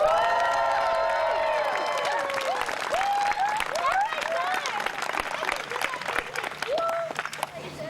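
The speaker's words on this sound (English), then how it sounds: "Let's have another big round of applause for the 2009 Scripps Ranch Little League MAPS National League and World Series champion Cardinals" A crowd applauds and cheers the 2009 Scripps Ranch Little League champion Cardinals, sustained clapping mixed with high whoops and children's shrieks, with voices calling out over it.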